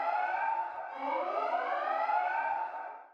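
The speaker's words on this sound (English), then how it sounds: "For the alarm, I've actually layered together 2 different instances of Click." Layered alarm preset from the Click sound-design plugin, a loud continuous synthetic siren with wavering, rising pitch sweeps that holds steady for about three seconds before cutting off, with no voices.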